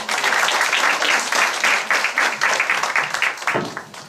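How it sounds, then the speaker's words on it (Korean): Audience applause fills a presentation hall as a speaker is introduced, a dense steady wash of many hands clapping at close range that holds throughout and begins to thin toward the end. "박수 한번 맞아주세요."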